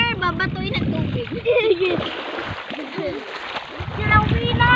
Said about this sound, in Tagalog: babatuin ng tubig